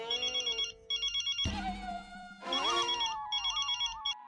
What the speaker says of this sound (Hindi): तारक, किसका फोन था?